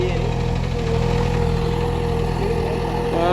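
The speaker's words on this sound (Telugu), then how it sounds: "ట్రాక్టర్." A tractor engine chugging steadily at idle, loud and close, with a constant low rumble and no pauses.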